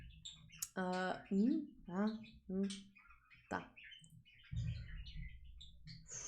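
A pet bird chirps and tweets in short bursts, some notes harmonically rich and sliding, fairly close and loud, with a person speaking briefly in between.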